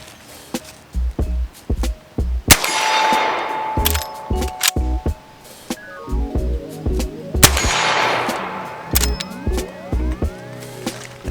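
Sharp, loud gunshots from a Henry .45 Big Boy All Weather lever-action rifle, fired one at a time with short gaps in an uneven string of about a dozen, each crack ringing briefly.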